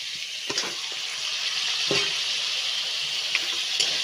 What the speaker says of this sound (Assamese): মাংসখিনি দি অলপ ভাজি ল'ম